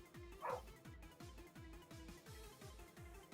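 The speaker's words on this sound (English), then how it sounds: "I hear dogs" Dogs bark outside a window, a faint, steady run of repeated yips and woofs at an even rhythm, distant and muffled with no voices over them.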